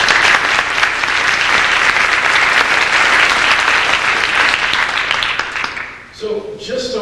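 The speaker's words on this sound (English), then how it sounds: "if we give a round of applause for our sponsors" An audience at a 2010 ACG Cup event in Cincinnati applauds sponsors, loud sustained clapping filling the room for about six seconds before quickly fading out.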